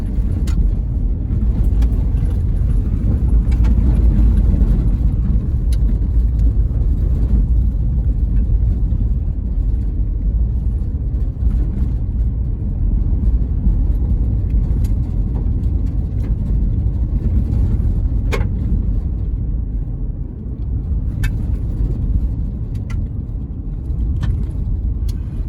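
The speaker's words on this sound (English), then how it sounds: "still driving around in the bush, still looking at shadows being cast across the road" Car driving along a road through the bush, a steady loud low rumble of engine and road noise heard from inside, continuous for about twenty-five seconds with occasional faint clicks and no talk.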